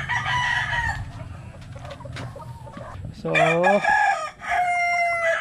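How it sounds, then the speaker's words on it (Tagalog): Chickens and roosters in their coop, with a rooster crowing loudly and up close partway through among ongoing clucking and farmyard noise, while someone speaks briefly. "Check natin yung kanyang mga manok."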